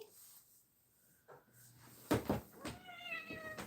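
A cat meows several times in a close indoor room, loud brief cries after a quiet start, with faint rustling and a voice talking softly.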